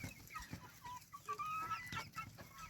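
Small guinea fowl chicks peeping and chirping in thin, high calls, mixed with chickens, scattered and fairly faint, with light rustling around them.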